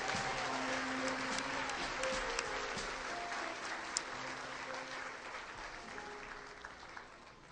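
Church congregation applauding steadily for the whole stretch, a dense wash of clapping filling the room with a few sharper claps standing out, no talk over it.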